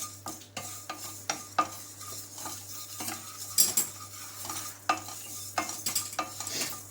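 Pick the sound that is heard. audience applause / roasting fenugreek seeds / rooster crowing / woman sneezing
roasting fenugreek seeds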